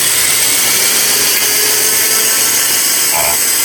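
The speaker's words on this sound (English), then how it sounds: "you're going to cut it again on the top over here and start a new cut now on the top." A power tool cuts into a Ford T5 five-speed gearbox bearing race, giving a steady, loud high-pitched whine and grind that fills the whole clip with no break.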